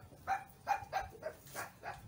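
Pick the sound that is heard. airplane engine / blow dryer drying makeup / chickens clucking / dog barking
dog barking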